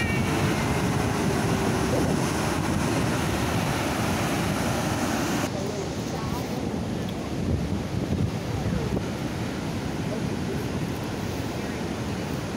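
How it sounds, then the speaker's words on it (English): A waterfall's steady rushing roar, dense and continuous with strong wind buffeting on the microphone, loud and unbroken throughout. "Wow, a good old waterfall."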